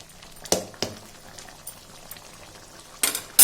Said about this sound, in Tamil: இப்போது இந்த மாதிரி கொதி வரும்போது